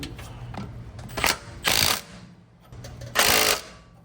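Brake caliper bolts being fastened during a BAER Big Claw brake kit install, with close mechanical ratcheting and whirring bursts, two longer loud runs separated by pauses, and no talking.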